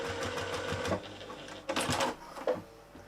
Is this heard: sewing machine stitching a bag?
yes